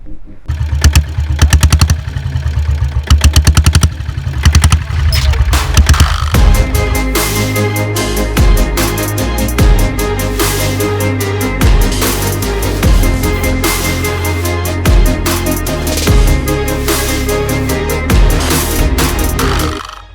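A 1987 vintage Royal Enfield diesel Bullet motorcycle engine runs loud and close, with a steady, rough knocking beat. It idles at first, then settles into a busier, continuous clatter.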